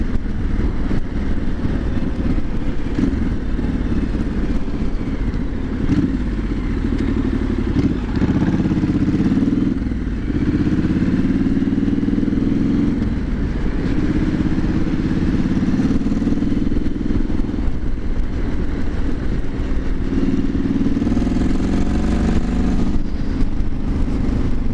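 A Triumph SS 900 motorcycle engine drones steadily while riding, loud and continuous with shifting revs and clattering wind noise throughout, no talk over it.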